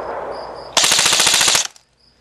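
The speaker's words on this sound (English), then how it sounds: "Let's try another full auto, see how many more BBs we got left in here" Airsoft PTW electric gun firing one full-auto burst of about a second, rapid close clicking shots after faint background noise, then silence.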